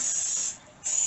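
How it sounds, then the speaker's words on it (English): Cooking spray from an aerosol can coats a casserole dish in two close bursts of hissing spray, loud and near, with a short pause between them. "spray my pan, my casserole dish"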